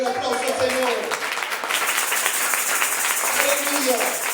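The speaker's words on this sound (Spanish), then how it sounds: "denle un aplauso al Señor" A church congregation applauding during a Sunday service, a bright continuous patter of hands lasting the whole stretch, with speech and shouting voices mixed over it.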